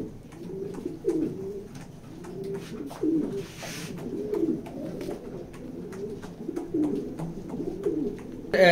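A female pigeon coos repeatedly in a loft, soft throaty rolling calls in steady overlapping phrases, close by, with other birds faintly around and no talking.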